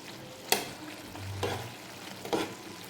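Semiya upma stirred in a pan with a spoon: three distinct scraping strokes, each a short bright scrape, over a low steady frying hiss, close up and alone.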